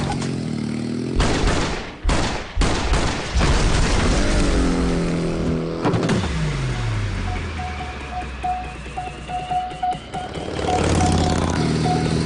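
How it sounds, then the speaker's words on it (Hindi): Gunfire from a Hindi action movie scene, several sharp broadband blasts packed into the first few seconds amid loud rumbling vehicle and crash noise, with a sustained beeping tone later and muffled voices under the mix. "इस पे 5 राउंड चलाना, और इसके लिए तो गोलियों की आवाज ही काफी है।"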